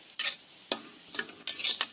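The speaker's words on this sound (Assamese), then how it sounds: "বেচনটো কালাৰ চেঞ্জ নোহোৱালৈকে এনেকৈ লৰাই থাকিব লাগিব" Besan (gram flour) being stirred and fried in a pan for barfi, a few distinct scraping strokes of a spoon against the pan over a soft sizzle, close and clear with no talking.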